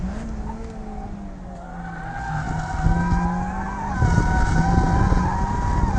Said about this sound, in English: Hit the rev limiter there a little bit.